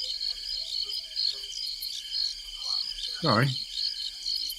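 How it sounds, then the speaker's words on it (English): Crickets chirp steadily in a continuous high trill throughout, a moderately loud bed with a brief spoken word cutting in near the end. "I think we need crickets after that one."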